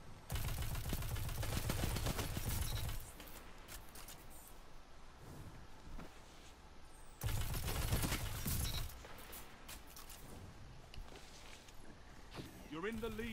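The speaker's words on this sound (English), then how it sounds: "Explosive rounds." Explosive rounds fire in heavy bursts in a video game, two loud clustered volleys of blasts separated by quieter stretches of lighter sounds and distant movement.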